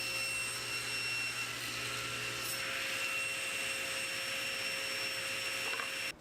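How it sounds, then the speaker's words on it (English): A table saw slowly crosscuts boards in half on a crosscut sled, a steady continuous whine with sawing noise running throughout, close and alone, ending abruptly. "line up the other corner in the kerf near the blade and slowly cut the boards in half"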